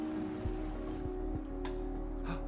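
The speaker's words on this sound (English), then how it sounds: "The rain should be coming." Rainfall in the city-building video game Endzone, a steady soft patter of drops over a low droning hum with a few faint clicks, no speech.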